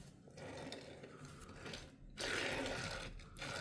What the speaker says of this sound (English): It makes a lot of noise while rolling